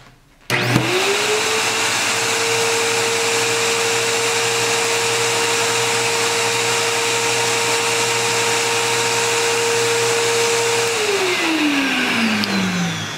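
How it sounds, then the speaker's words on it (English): An upright vacuum cleaner set to carpet mode, its brush roll not spinning because the belt sits on the outer roller, switches on with a loud steady whine that holds for about ten seconds, then winds down at the end. "when I turn the vacuum on, the brush roll is not going to spin since the belt is on the outer roller."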